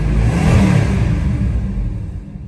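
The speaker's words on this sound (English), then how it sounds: "Almost seems like it's laboring more at idle now" The 383 big block V8 of a 1968 Dodge Charger runs loud and close with a heavy, rumbling, slightly labored idle that eases off toward the end.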